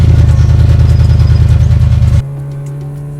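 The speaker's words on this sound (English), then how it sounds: "Here comes the cement truck and mixer," A cement truck and mixer, toy construction vehicles building a concrete road, runs with a loud, close engine drone that cuts off abruptly into a quieter steady hum.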